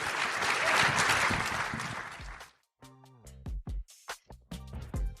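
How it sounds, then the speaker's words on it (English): A crowd at a CES session applauds loudly for about two and a half seconds, then the clapping stops and a few scattered sounds and brief bits of activity follow. "And then give them a big round of applause."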